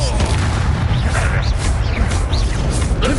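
Bombarda spell blasts in Hogwarts Legacy, loud booming explosive bursts with crashing debris, dense and continuous at close range.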